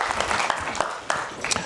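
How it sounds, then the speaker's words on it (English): An audience at an LGBT+ forum applauds in a short burst, dense rapid clapping of moderate loudness with a few sharper claps standing out, and no talk over it. "you all deserve a round of applause"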